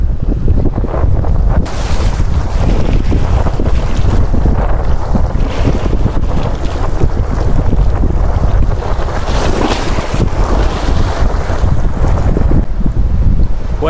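Sea waves splash and churn in strong wind along a mangrove-lined coast, a loud continuous roar with heavy wind buffeting the microphone throughout and no voices.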